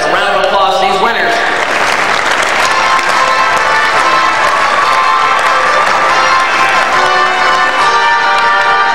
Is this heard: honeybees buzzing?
no